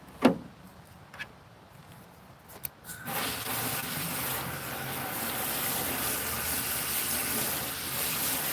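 A Gardyn hydroponic tank is rinsed with running water: after a few quiet seconds with scattered knocks and bumps, a steady rushing splash of water begins and continues evenly to the end.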